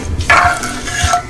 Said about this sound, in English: Stirring, stirring,